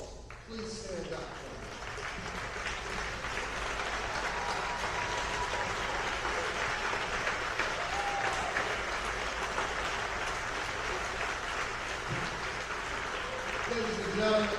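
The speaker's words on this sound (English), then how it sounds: "Anyone in this room who has ever taught or coached, please stand up and give them a round of applause." Audience applause for teachers and coaches at a school athletics Hall of Fame ceremony, dense sustained clapping filling the room for the whole stretch, with a faint voice at the start.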